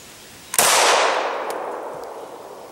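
A Glock pistol with its barrel packed with solidified wax fires once with a sharp, loud crack, followed by a long echo that slowly fades over the next two seconds.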